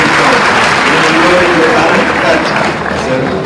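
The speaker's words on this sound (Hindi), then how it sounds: "जोरदार ताली बजा" Loud, sustained applause fills a hall at a farm innovation dialogue event in Bhopal, steady clapping from a large crowd with no pauses.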